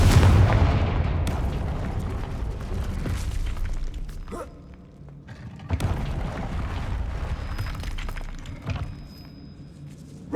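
Spell blasts from a Confringo fire spell in the Hogwarts Legacy video game: heavy booming explosions, one big burst at the start and another mid-clip, with loud rumbling between and after them.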